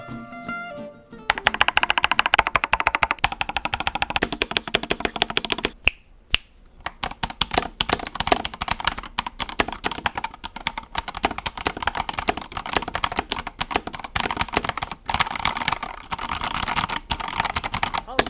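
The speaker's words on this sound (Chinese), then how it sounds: "现在呢，就让我们来听听看它打字音吧" Someone types fast on a Keydous NJ68 mechanical keyboard with well-worn TTC Speed Silver switches and a large, hollow case, producing dense, loud, clattery keystrokes up close, with a brief pause partway through.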